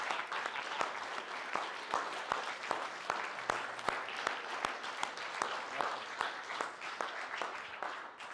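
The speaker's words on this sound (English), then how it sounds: "So I just want you all to stand up and give Nat a round of applause." An audience stands and applauds a woman named Nat at a mindset awards event, producing dense, even clapping throughout with a few sharp individual claps standing out near the front.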